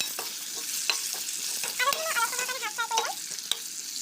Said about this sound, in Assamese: এয়া মই আলুখিনি ৰংচোৱা হোৱালৈকে হালধি নিমখ দি পেলাই ভালকৈ ফ্ৰাই কৰি ল'ম।